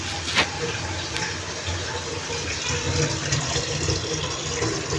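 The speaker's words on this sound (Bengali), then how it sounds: "এই পর্যায়ে আমি ঝোলের পানি দিয়ে দিব" Water runs in a steady, full gush into a pot of beef curry to make the gravy. The pour is close and fairly loud, continuous throughout, with one brief clink near the start.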